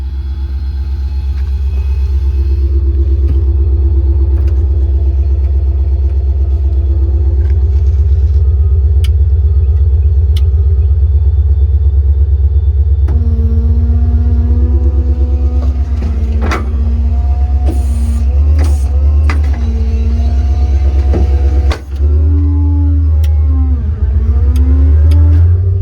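A 2021 Ford F600 mechanics truck with a 7.3 gas V8 idles with a loud, steady low rumble, then gets a few brief revs and settles back down near the end.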